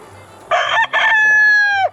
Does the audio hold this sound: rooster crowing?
yes